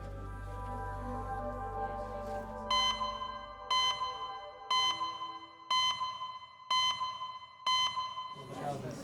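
A red emergency phone in a hospital A&E department rings in six regular, evenly spaced electronic bursts after a stretch of low background hum, fairly loud and close.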